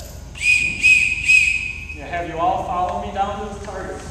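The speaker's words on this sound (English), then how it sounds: "I will give you a signal of three whistle blasts." Three short, shrill whistle blasts at an archery range signal archers to go retrieve their arrows, evenly spaced and loud, followed by a man giving instructions.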